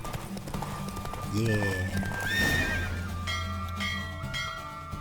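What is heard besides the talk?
horse galloping and neighing in video game The Witcher 3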